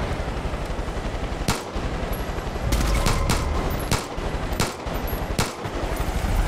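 Gunfire in Far Cry 5 while a pistol is fired from a helicopter: about half a dozen sharp, loud shots at irregular intervals over a steady rushing engine and rotor bed, with no talk.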